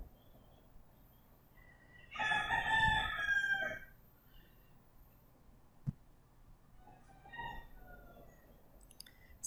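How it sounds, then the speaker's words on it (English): A rooster crows once, loud and drawn out with a rising, strained tone, followed by a sharp click and a fainter second call a few seconds later. "Those are chickens."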